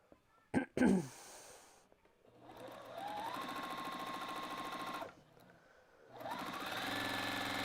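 A sewing machine stitches a quilt-as-you-go fabric postcard in two long steady runs of rapid whirring, with a brief handling clatter before and a short pause between runs, loud and close.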